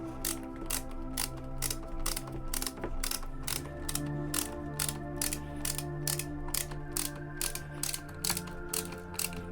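A cheap screwdriver turning a screw under test makes a steady series of sharp, evenly spaced ratcheting clicks, close and loud, with no talk.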